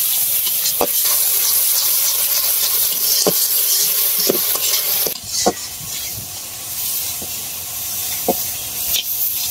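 Cumin and onion sizzle in a hot wok, a steady close frying hiss broken by occasional sharp pops and stirring scrapes.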